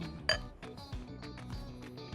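A spoon stirs chia seed porridge in a bowl, giving a sharp clink against the dish followed by a quick series of soft, close tapping scrapes.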